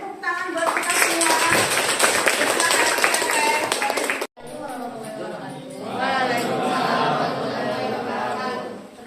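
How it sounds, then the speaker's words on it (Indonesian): Students clap in a classroom, a dense burst of applause that stops abruptly, then resumes more softly with children's chatter and voices mixed in. "Boleh tepuk tangan buat kita semua"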